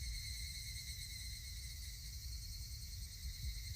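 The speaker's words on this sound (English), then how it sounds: "Only the cry of the cicadas remained, annoyingly loud" Video game cicadas drone in a continuous, shrill, pulsing chorus, steady and unbroken, with a faint low rumble underneath.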